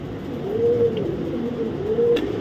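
A female pigeon coos nearby in low, rolling, repeated calls, the soft throaty warble rising and falling twice over a quiet background.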